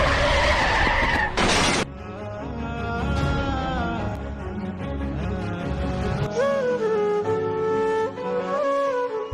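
A car skids with a harsh broadband screech and crashes in a brief loud burst, followed by a dense, sustained layer of droning tones without any voices.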